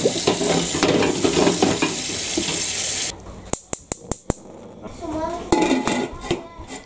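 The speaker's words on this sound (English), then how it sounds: "we're going to put this in the pot and let them start sterilizing while I prepare the jam" Washed glass canning jars go into a pot to sterilize, giving sharp clinks of glass against metal along with water sloshing and a bubbling, sizzling background, all heard close with no speech.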